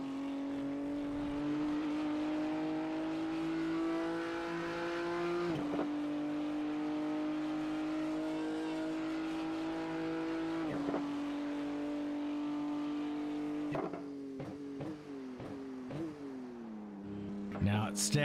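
A BMW GT3 race car engine holds a steady high-pitched drone, shifting pitch with gear changes and easing off into brief lifts near the end, with race commentary talking over it throughout.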